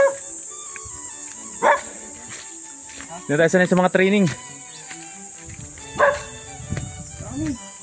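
Several dog barks ring out at intervals, one burst of rapid barking in the middle, with people talking nearby and insects chirping in the background.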